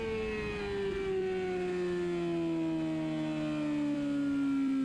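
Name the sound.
race car engine accelerating at full throttle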